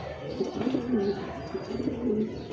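Several pigeons, females and a male, coo nearby in soft, rolling repeated calls with faint chirps, steady through the short stretch and without speech.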